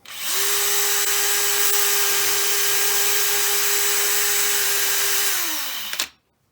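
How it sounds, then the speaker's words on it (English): A power drill driving a case trimmer on brass cartridge cases spins up with a rising whine, runs at a steady high pitch for several seconds, then winds down and stops abruptly. "fire up the drill."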